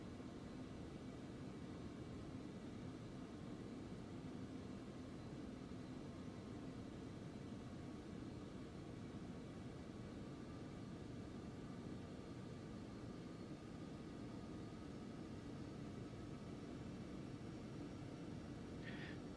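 Simulated Aerobask Phenom 300 business jet taxiing at an airport in X-Plane 11, a steady low engine rumble and airy hiss with a faint whine, constant throughout with no talking.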